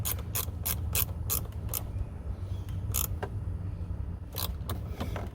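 A hand ratchet tightens the battery hold-down bracket on a 2014 Nissan Murano, giving bursts of quick, close clicking strokes with short pauses between them over a low steady hum.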